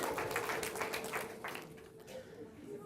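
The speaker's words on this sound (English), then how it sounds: "Give him a big round of applause." An audience applauds with faint, scattered clapping that is strongest at first and fades away after a second or two.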